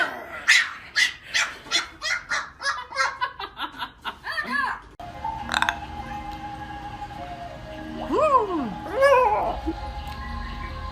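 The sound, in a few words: puppy barking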